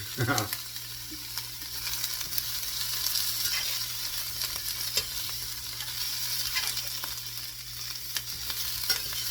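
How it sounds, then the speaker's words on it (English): Onions fry in a pan for an omelette with a steady sizzle and crackle, and a few soft stirring scrapes break through now and then. "we're just going to get the onions starting to decolorize"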